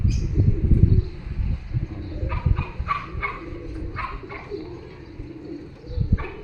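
Pigeons sunning in the midday heat coo in soft repeated bursts close by, with a dog barking now and then in the background.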